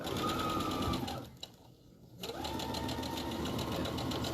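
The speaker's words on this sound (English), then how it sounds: "line of stitching right along that edge, just keeping sort of my eye on where the edge of the Bosal is, all the way down" A sewing machine stitching a straight line along the edge of fabric with batting for a sewing machine mat, a close, loud, even whir that pauses briefly midway and then resumes.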